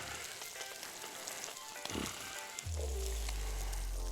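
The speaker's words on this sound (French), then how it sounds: "Le poisson doit cuire à une température assez douce pour ne pas brûler et dessécher à l'intérieur." A wolffish back fries gently in a hot pan, a steady soft sizzle that swells into a louder, denser crackle partway through, heard close with no talking.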